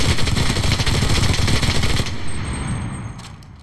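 Thompson submachine gun from a video game firing a sustained, loud automatic burst for about two seconds, dense rapid shots, then trailing off into a fading echo.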